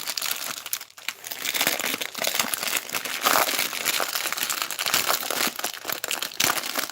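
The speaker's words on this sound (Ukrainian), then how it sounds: "Відкриваємо стрази" A plastic packet of diamond painting rhinestones is opened close up, with continuous crisp crinkling and crumpling that rises and falls in bursts, alone with no voices.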